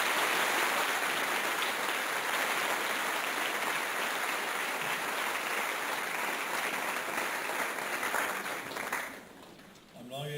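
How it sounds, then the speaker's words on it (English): Sustained applause fills a school prize-giving celebration, a dense, steady wash of clapping from a large audience that thins out near the end. "Let's give them a round of applause for that."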